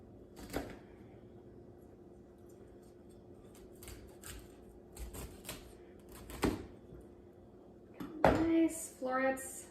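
A knife chops broccoli on a board in a kitchen cooking demo, with scattered sharp close knocks separated by pauses and a burst of quicker cuts at the end, while someone talks.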